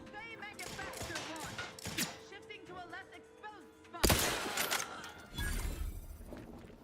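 Gunfire in The Outer Worlds 2, several sharp shots and a loud burst of firing in the middle, with game effects around them while someone talks over the action.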